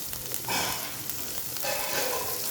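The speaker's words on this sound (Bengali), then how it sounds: "এবার এর মধ্যে দিচ্ছি পেঁয়াজ কুচি।" Chopped onion hitting hot butter in a pan, a steady sizzle and crackle that swells twice as more pieces go in, close and moderately loud with no talking.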